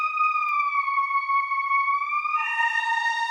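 A synth pattern pitched up 12 semitones and time-stretched plays as a high, sustained tone that dips slightly, then shifts into a brighter, buzzier texture near the end, heard alone and close.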